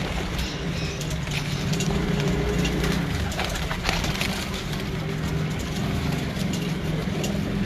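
Pigeons coo on a rooftop loft among kept breeding birds, soft repeated calls layered over a busy outdoor background with rustling and scattered knocks, no voices.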